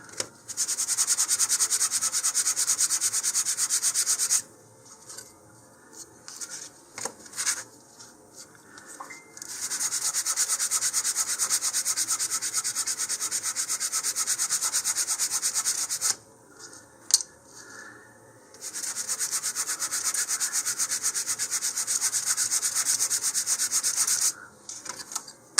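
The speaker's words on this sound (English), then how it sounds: "now I'm going to do the same thing by just sanding off the faces here" Steady hand sanding of model rocket parts, long stretches of rough rubbing strokes broken by short pauses, close and moderately loud with no talking.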